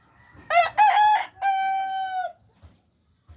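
A Batangas Bacolod gamecock crows nearby, loud and clear, in one full call of several short rising notes ending in a long sustained note, followed by quiet.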